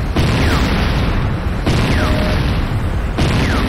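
A building blows up in Command & Conquer Renegade: three loud, deep booming blasts arrive at regular intervals, each one a sudden burst followed by a rumbling wash of debris that fills the space between them.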